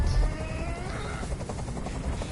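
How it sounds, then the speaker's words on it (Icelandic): Helicopter hovering nearby in the video game Detroit: Become Human, a steady rotor chop with a rhythmic pulsing throb, loud and continuous with no talking. "Tell that helicopter to get out of here."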